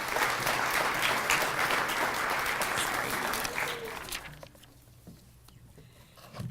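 An audience at an education foundation grants and scholarships reception claps loudly and steadily for several seconds, then the applause tapers off into quiet with a few scattered claps.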